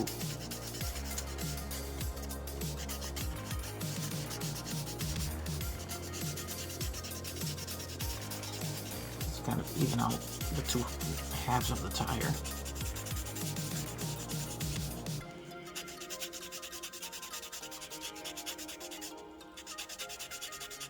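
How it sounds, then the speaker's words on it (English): Steady, close rubbing rasp of sandpaper worked back and forth over the center seam of a plastic tire from an AMT 1963 Stingray model car kit, continuing for about fifteen seconds before giving way to quieter handling noise. "First, I start off with sanding that seam"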